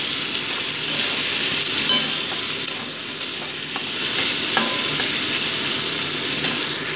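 Potato pieces and chopped onion fry in fish oil in a pan, giving a continuous close sizzle with scraping stirring sounds and occasional utensil clicks, no talking.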